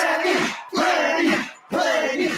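A crowd chants in rhythmic bursts in a soybean radio advertisement, three loud shouted phrases separated by brief pauses, stadium-style and alone without narration.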